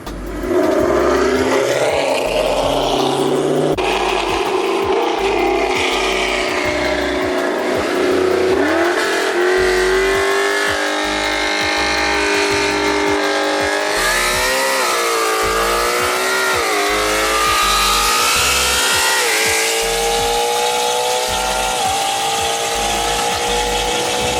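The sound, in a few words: Ford Mustang racing and accelerating past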